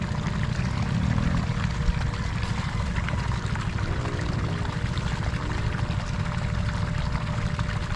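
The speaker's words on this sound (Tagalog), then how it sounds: "Naagad yung tubig." Irrigation water running into furrows in a bitter gourd field, a loud, continuous rushing and gurgling flow close by, with no voices over it.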